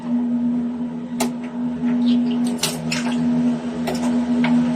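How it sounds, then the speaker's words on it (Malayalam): A steady low hum runs under scattered soft squelching and scraping clicks as a spoon stirs a dish just seasoned with ground black pepper, close and moderately loud with no talk. "ഇനി നമുക്ക് നന്നായിട്ടൊന്ന് ഇളക്കി കൊടുക്കാം"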